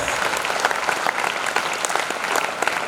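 Sustained applause from an audience at a school farewell function, dense steady clapping across the whole stretch with no talk over it.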